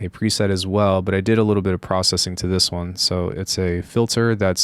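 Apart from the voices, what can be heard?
No distinct noise like a dog, phone or traffic.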